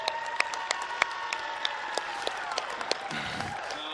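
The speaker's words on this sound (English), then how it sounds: "So can we just give them a quick round of applause" Crowd in the stands applauding Moreton City at the NPL Men Grand Final, a steady wash of clapping with sharper individual claps standing out, continuing throughout at moderate distance.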